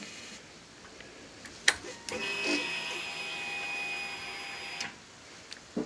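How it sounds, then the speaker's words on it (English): A steady electric whine with a faint high tone runs for a few seconds, framed by sharp clicks, as the fuel pump of a Suzuki Bandit 1250 motorcycle pressurizes in a quiet garage. "It's the fuel pump pressurizing."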